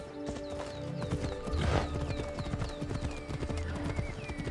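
Horse galloping in the video game Assassin's Creed Odyssey, with quick, even hoofbeats close up, a short whinny partway through and faint whistling chirps in the game's background.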